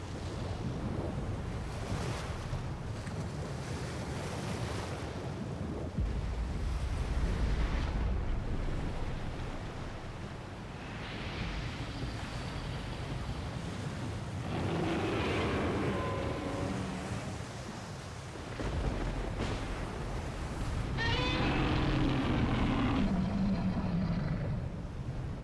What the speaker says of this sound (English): Then a whirlpool starts to form.